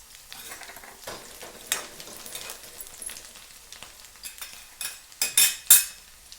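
Chopped onion and green chilli fry in a pan, a steady sizzle broken by scraping stirs of a spatula against the metal, with louder sharp clatters of utensil strokes near the end.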